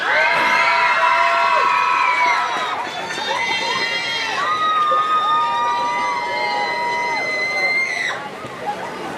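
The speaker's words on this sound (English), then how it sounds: "Round of applause for Caitlin George" A crowd at a high school senior night cheers and whoops with children shouting, a loud sustained roar of voices swelling and dipping, with babble and no clear single speaker.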